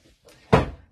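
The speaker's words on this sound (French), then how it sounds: "Excusez-moi pour le bruit, c'est ma chaise." A chair scraping or knocking once in a cramped room set up with a tripod, a single loud thunk after faint shuffling, close by with no talk.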